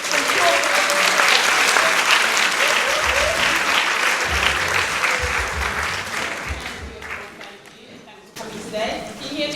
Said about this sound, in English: So can we give a big round of applause to Sherilyn from